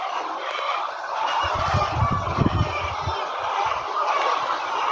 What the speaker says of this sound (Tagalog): Mga manok diyan.